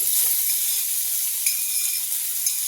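Steady, loud hiss and crackle of ivy gourd and garlic frying in a hot pan, continuous and close, with no voices.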